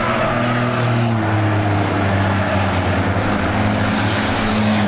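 Race cars circle single file around the oval at Star Speedway during a heat race, a sustained loud engine drone with pitch sliding as cars pass, heard on its own.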